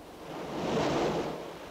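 Ocean waves on the rocky coast at Izu Jogasaki, Japan: a single soft surge of surf swelling and easing over under two seconds, a broad steady wash with no voices.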